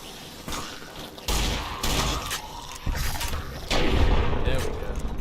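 Caravan shotgun loaded with slugs fires at ghouls in Fallout: New Vegas, several heavy booming shots spaced a second or so apart, loud and close, with game clatter between them.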